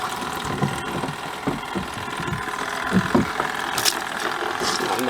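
A Giantex Costway twin tub washing machine on its spin cycle, a steady mid-pitched motor hum with faint rattling and clicking, fairly close and continuous throughout.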